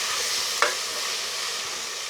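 A spoon stirs chicken gizzards with garam masala in a frying pan, a continuous soft sizzle with one brief scrape partway through, close and fairly quiet.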